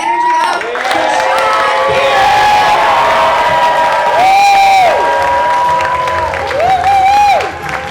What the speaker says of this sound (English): Start clapping. Start getting the energy up.